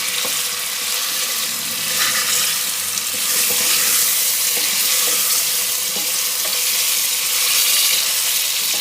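Chicken pieces fry in hot oil for palak chicken, a loud, dense, continuous sizzle with scattered pops and crackles that stays close and steady throughout.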